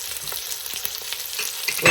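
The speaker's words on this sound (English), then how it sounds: "I'm going to add in a quart of our bone broth right now" Bone broth hits a hot pan for a pork green chili casserole, giving a steady, close crackling sizzle with bursts of spitting that swell slightly at the end, with no voices.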